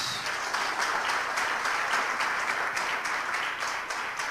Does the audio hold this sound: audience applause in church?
yes